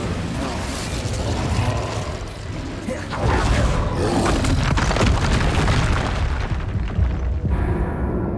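Incendio fire spell cast in Hogwarts Legacy, a roaring, crackling burst of flame with booming mechanical rumbles that swells midway and cuts off near the end, with a voice shouting over it.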